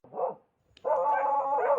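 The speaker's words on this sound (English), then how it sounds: "The barking grew louder and louder" A dog gives a short bark, then after a brief pause launches into a longer, loud, sustained howling bark that carries to the end.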